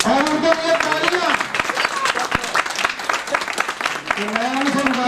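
An audience applauds at a Diwali celebration in Lahore, dense clapping and cheering with a crowd voice shouting over it, loud and sustained throughout.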